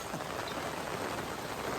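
Heavy rain pours steadily in Costa Rica, a dense, unbroken hiss of drops striking surfaces that stays loud and even throughout with no voices.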